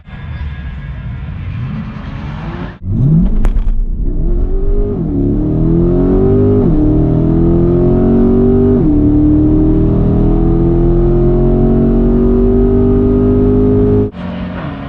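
A C8 Corvette revs hard and accelerates down a quarter-mile drag strip, pitch climbing through several gear shifts as it roars steadily away, with no talking.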